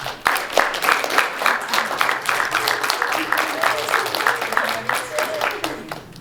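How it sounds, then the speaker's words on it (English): Steady applause from a debate audience for the panelists, a dense, even patter of many hands sustained at moderate loudness with some voices mixed in. "if the audience is mind giving our panelists a round of applause"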